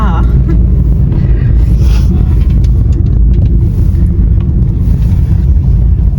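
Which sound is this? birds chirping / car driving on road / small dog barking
car driving on road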